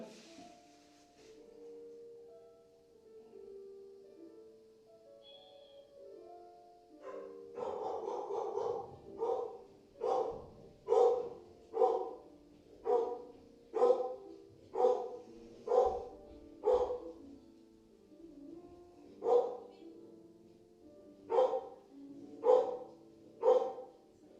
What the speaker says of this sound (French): pour les chiens qui aboient